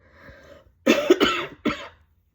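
A few harsh coughs in quick succession, close and loud, after a short soft breathy lead-in, then quiet.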